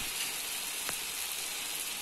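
Tomatoes sauté in a pan for tomato chutney, giving off a quiet, steady sizzle with a soft continuous crackle and no talking.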